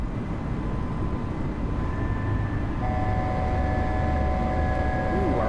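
An Airbus A320neo climbs out on takeoff in Microsoft Flight Simulator, a steady broadband engine roar with faint whining tones that rise slightly. A person talks briefly over it.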